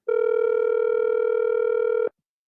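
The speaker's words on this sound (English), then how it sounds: "let me call David Mohammed and see if we go pick up the phone as you say that" A telephone dial or touch-tone sounds as one steady, unbroken electronic tone for about two seconds, close and clear, then cuts off abruptly into silence while a radio show host places a call to a guest.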